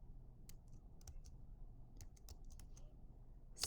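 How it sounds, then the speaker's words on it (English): Quiet typing on a computer keyboard, a scattering of light key clicks in short bursts over a low steady background hum, with no one speaking. "So I can press the caps lock button on my keyboard and type in"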